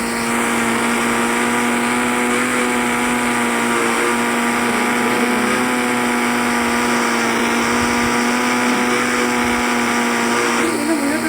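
A Honda Activa scooter engine in an Indian bike video game hums at a steady, unchanging drone, loud and sustained with a buzzing tone and no clear revving throughout.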